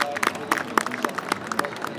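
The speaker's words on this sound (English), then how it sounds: "while we applaud these guys" An audience claps at a Murray Grey stud beef cattle judging ring at the Ekka show, with scattered, fairly light hand claps spread across a soft crowd murmur.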